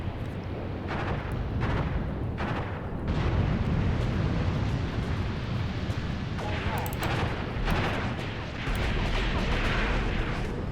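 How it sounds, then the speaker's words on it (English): A Katyusha rocket artillery barrage in a war video game, a dense rumbling roar of overlapping explosions and launches that stays loud throughout, with sharper cracks scattered across it and a voice talking underneath. "we got to focus on the Katyusha barrage"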